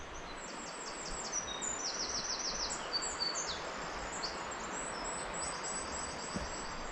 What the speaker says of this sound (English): all you can hear is the trickling water and birds singing